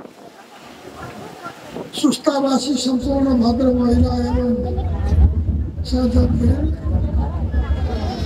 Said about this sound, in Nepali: हावाहुरी धेरै आइरहेको छ।